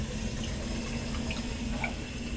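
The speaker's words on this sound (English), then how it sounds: "the water in the filter basically goes through the floss" Steady, soft rush and trickle of water flowing through filter floss in a ClariSea aquarium filter, constant and close, with faint drips over a low hum.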